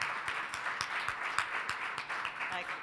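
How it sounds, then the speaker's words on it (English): Applause from an audience at an academic lecture on community-engaged scholarship, moderately loud clapping with distinct individual claps scattered through the wash, with a voice talking over it. "let's give Sacoby another round of applause"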